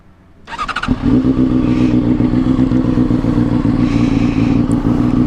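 A 2016 Honda CBR600RR sport bike cranks briefly with the starter, then catches and settles into a loud, steady, close-up exhaust idle with a raspy pulse and no talk.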